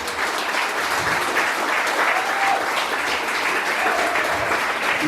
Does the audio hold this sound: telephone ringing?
no